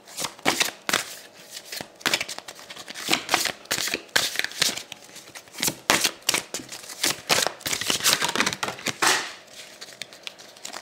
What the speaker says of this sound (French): Je vais essayer de retirer quelques cartes pour voir si on en sait plus